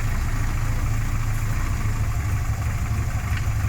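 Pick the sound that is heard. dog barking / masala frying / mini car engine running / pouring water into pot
mini car engine running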